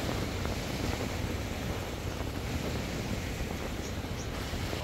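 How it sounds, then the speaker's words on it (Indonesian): Strong wind under overcast skies on the Bukit Batu Kawan hiking trail buffets the microphone with a steady, heavy rumble and rushing noise, continuous throughout with no voices. "Mendung, lagi angin pun kuat."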